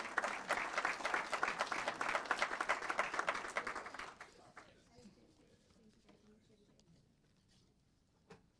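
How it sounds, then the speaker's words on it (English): A room full of people at a city council meeting applauds steadily for about four seconds, then the clapping fades into quiet murmuring and a few stray sounds. "another round of applause"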